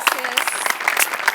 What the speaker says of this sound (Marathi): सचिन सरांसाठी एकदा जोरदार टाळ्या